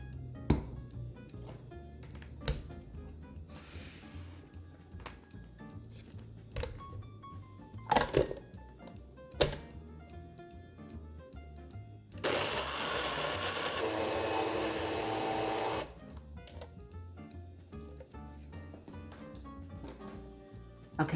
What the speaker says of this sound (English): Okay, put the lid on this.